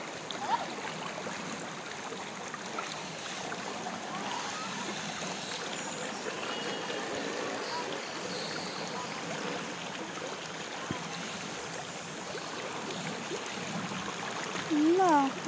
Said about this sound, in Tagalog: Oh, ang galing naman ng motor na yun.